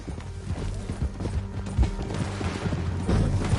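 Horse hooves clip-clop at a riding pace in Red Dead Redemption 2, a steady run of thudding beats close by, mixed with low rumbling game sound and occasional heavier impacts.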